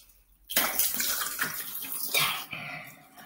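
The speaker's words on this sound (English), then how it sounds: "Make sure you wash your face thoroughly because you do not want any leftover mask." Tap water gushes into a basin after a quiet start, splashing and sputtering unevenly as hands scoop it to rinse a face mask off, close and fairly loud.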